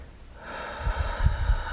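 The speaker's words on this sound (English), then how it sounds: "try a couple cleansing breaths here" Close, breathy exhales during a yoga pose, a few soft airy pushes of breath with low rumbling puffs, alone with no talking.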